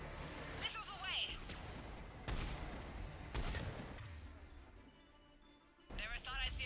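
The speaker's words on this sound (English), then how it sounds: "Missiles away." Missile launches and explosions in the video game Mass Effect 3: several loud, dense bursts of blasts and crashing booms come in rapid waves amid continuous battle noise, with a sharp final burst near the end.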